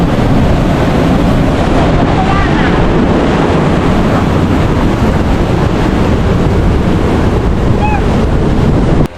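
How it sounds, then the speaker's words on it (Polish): Loud, steady roar of ocean surf surging into a rocky sea grotto at Black Point in the Bahamas, a close, wind-buffeted wash of churning water that fills the whole stretch without letting up. "Ale tu fala wchodzi."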